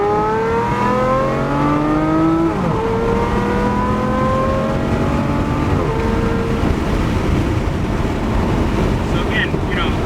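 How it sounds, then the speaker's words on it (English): Modified Aston Martin Vanquish engine climbing through the revs in repeated rising sweeps with gear changes, loud and steady under wind noise; the higher-rev crackle is not clearly distinct. "as you get the higher revs, you hear the crackle."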